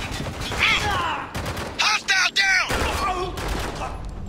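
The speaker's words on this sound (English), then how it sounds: "Yeah, but they're shooting at us." Gunfire in the video game Spec Ops: The Line, several sharp bursts of automatic fire crackling in quick succession amid continuous combat noise, with voices talking over and around the shots.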